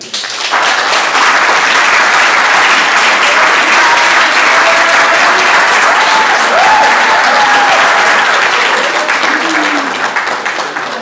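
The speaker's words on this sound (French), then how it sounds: "Je vous demande d'applaudir avec un maximum d'énergie Jasmine." Sustained audience applause for a speaker at an eloquence contest, loud and dense from start to finish and tapering slightly near the end, with faint voices mixed in.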